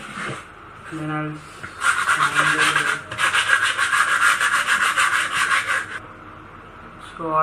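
Brisk strokes of hand sanding on a wooden power-supply enclosure scrape back and forth in a steady rhythm, with short bits of speech before and after.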